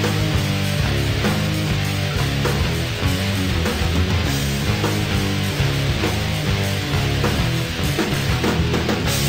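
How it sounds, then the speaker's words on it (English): Loud, dense boss theme music from a Bloons video game, with driving percussion and layered synth parts, plays continuously at an intense, energetic pace. "And its boss theme sounds like this."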